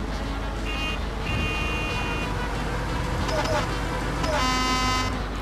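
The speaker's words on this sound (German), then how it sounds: "Coole Hupe." Several electronic car horn toots sound in short bursts in Mafia 2 over steady engine and traffic noise, with a voice talking throughout.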